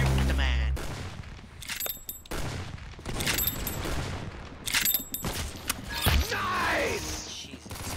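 Rapid gunfire bursts from an SMG in the video game Arsenal, loud and repeated in clusters, with brief mechanical clatter and players talking over the shooting.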